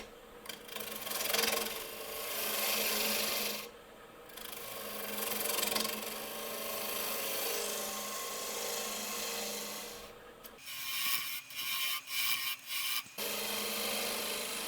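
A lathe gouge push-cutting spalted maple on a natural-edge calabash hollow form, a close steady rasping scrape in long strokes with short pauses, then several quick choppy cuts near the end.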